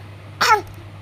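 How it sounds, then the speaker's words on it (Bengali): A small child gives a single short, close cough, one abrupt burst lasting a fraction of a second against a quiet background. "একটু কেশে দাও"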